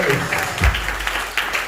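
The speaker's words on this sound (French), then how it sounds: "Vous allez applaudir Jésus." A church congregation applauds during worship, a brief burst of clapping from many hands with a low thump partway through, heard at close range.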